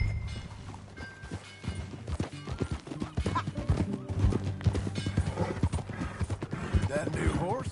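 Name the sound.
horse riding in a video game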